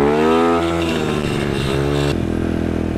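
A motorcycle engine revs hard in first gear during a power wheelie, its pitch climbing steadily before a sudden drop and change of note near the end. It is loud and close, with no talk.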